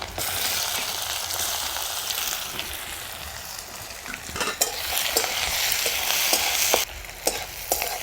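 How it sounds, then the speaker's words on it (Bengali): Garlic and chopped onion fry steadily in a pan for an egg tarka, a continuous close sizzle with occasional sharper crackles and stirring scrapes, no voices. "আমার রসুন আর পেঁয়াজটা একটু ভালো করে ভাজা হয়ে যাক"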